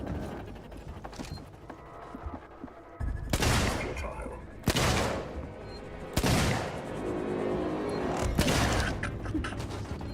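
Gunshots ring out in a Xenomorph-themed sci-fi video game: several loud, separate bursts of fire seconds apart over a busy background of mechanical clatter and game ambience.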